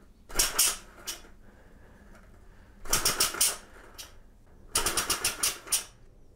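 A homemade compressed air engine runs at 50 PSI in three short bursts of rapid clattering puffs, each several quick beats long with quiet gaps between, close and fairly loud.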